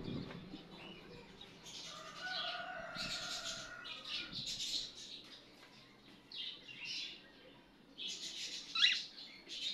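A pet bird kept at home near a balcony gives soft, scattered calls: a couple of drawn-out whistled notes, then brief chirps and squawks spread across a quiet room.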